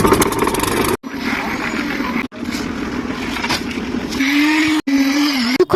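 A construction machine for concrete casting runs on a building site, its engine droning steadily with a humming whine and brief cutoffs, rising to a higher strained tone near the end.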